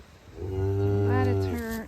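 A cow on a ranch lets out one long, loud moo with a rich harmonic tone, rising slightly and then falling away, close by and heard on its own.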